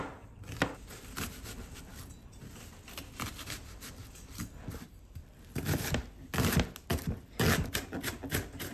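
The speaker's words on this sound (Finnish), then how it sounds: "Ja siinä välissä mä pilkon tämän sipulin." A knife chops an onion on a board, a run of close, quick taps in uneven bursts that get denser and louder toward the end, with no voices.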